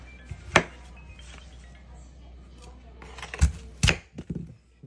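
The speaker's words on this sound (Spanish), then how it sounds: "yo aquí estoy picando la jícama" Jicama being chopped with a knife: a few sharp, isolated thunks and cracks against a board, close by, spaced irregularly with a quick cluster near the end, amid quiet background.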